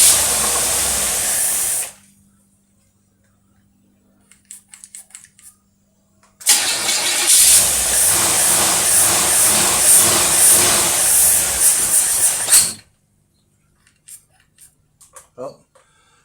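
An engine fed by a single-barrel carburetor cranks and tries to start in two loud, hissing bursts separated by a quiet gap. Faint clicks and handling noises fill the pauses, and there is some talking.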